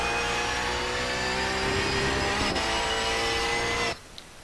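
Race car engine in iRacing at Watkins Glen, loud and sustained at full throttle with a steady high whine, a brief shift blip mid-run, then cutting off abruptly near the end.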